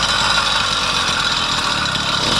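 Small add-on motor fitted to a bicycle, idling steadily in the Kazakh desert after a breakdown, a continuous close buzzing drone with no talk over it.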